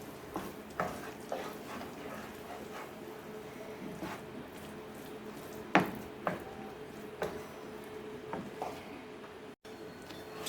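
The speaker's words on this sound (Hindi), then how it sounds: "इसे सॉस में मिक्स करेंगे।" Shredded chicken is stirred into a white sauce in a pan for pasta, making soft wet squishing and scraping sounds with occasional sharper utensil knocks against the pan over a quiet background.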